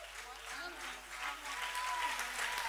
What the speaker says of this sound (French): Clap your hands for Amen.